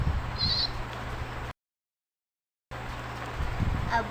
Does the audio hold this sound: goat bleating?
yes